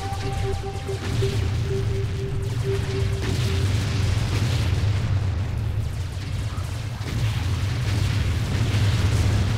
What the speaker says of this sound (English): Let's see what these new rockets can do